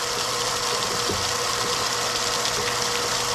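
A newly dug well's water pump motor runs with a steady, even drone that holds at the same level throughout, with no voices.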